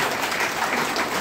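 An audience at a DXN health seminar claps loudly and continuously, a thick wash of many hands with no speech on top.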